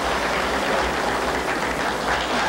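A crowd at a pool exhibition applauds in a dense, loud, steady wash of clapping that lasts throughout.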